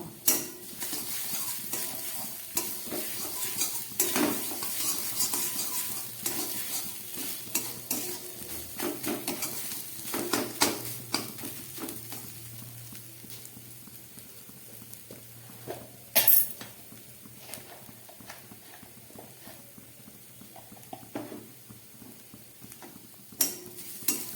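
A coconut spice paste with cashew and ginger fries in a pan while a spoon stirs it, giving a low continuous sizzle with intermittent metallic scrapes and clinks close by and no voices.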